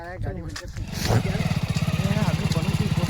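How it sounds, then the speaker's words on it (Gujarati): A motorcycle engine idles close by with a fast, steady pulsing throb that settles in after a second of voices and fumbling at the start. "ચાલુ રાખો બાઈક."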